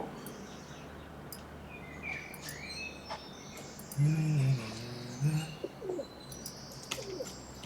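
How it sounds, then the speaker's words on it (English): A blackbird sings outdoors in bursts of melodic phrases, with other chirping birds and a low coo around it, all fairly faint against a quiet background. "Here's the blackbird."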